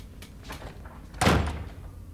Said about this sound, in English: He closed the door.